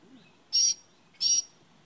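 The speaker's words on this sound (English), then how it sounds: "This is a wild bird." A wild bird perched indoors gives two loud, sharp chirps about half a second apart, close by in an otherwise quiet room.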